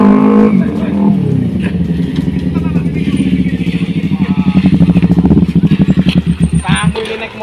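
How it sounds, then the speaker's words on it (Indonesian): Big motorcycles speeding along a road, engines revving and buzzing in rapid pulsing bursts that grow louder and rougher toward the end, close and loud, with a brief voice near the start. "Entar motor-motor gede kebut-kebutan di jalan."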